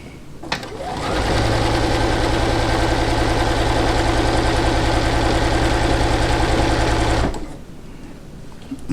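A sewing machine stitches a quilt block in one continuous run of about six seconds, a close, even mechanical whir and rapid needle clatter that starts and stops cleanly, with no talk over it.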